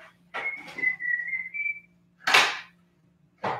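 A man whistles a short tune during a religious discussion livestream, a bright sliding whistled phrase broken by sharp breathy bursts and clicks, close and fairly loud.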